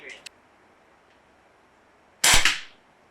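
An Umarex Notos PCP air rifle fires a 21-grain pellet in a backyard, making one sharp, loud, close report near the end after a brief voice at the start.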